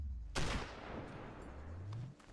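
A single sniper rifle shot fires in the video game Sniper Ghost Warrior. It cracks sharply, then a rumbling tail and a low hum carry on for about two seconds.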